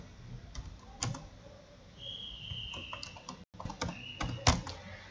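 Typing on a computer keyboard during a PowerPoint lesson: scattered, irregular key clicks, close and fairly clear, with a couple of louder strokes and a short silent gap midway.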